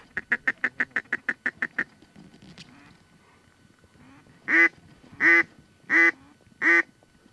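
Ducks calling over an open field during a hunt near Enid, Oklahoma: a quick run of about nine short, even quacks, then four louder, drawn-out calls spaced steadily apart, heard clearly.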